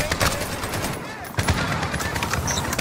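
Automatic gunfire rattles in dense bursts in the Modern Warfare campaign, loud and close, mixed with a voice talking over the shooting.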